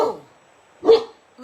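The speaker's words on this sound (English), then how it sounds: "So lazy, just lying there barking." An old dog lying down gives two short, sharp barks close by, with a pause between them and the start of a third at the end, and no one speaking over them.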